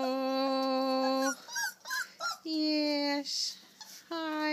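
A Thanksgiving Day puppy whimpers in high, drawn-out whines broken by short yelps, close and loud, while someone talks softly to it between cries.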